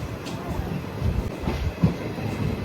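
A train rumbles and clatters steadily at a railway station, with a low rolling wheel noise and occasional soft knocks continuing throughout.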